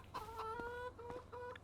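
Chickens in Farming Simulator 25 cluck softly in short, repeated calls, faint and fairly close, with no talk over them.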